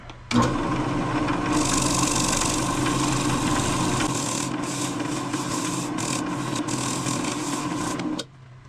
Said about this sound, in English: Got the abrasive pad. Let's buff it off and then put on our second coat.